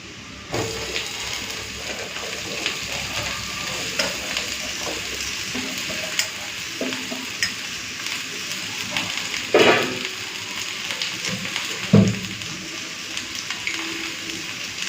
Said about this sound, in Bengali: এখন দিয়ে দেবো এই যে কেটে রাখা আলু কুন্দরি